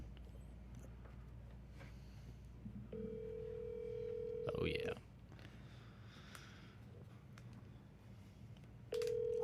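A telephone dialing out to a real estate agent: faint steady tones with a brief burst of touch-tone dialing, quiet under a room hum, with a short spoken remark.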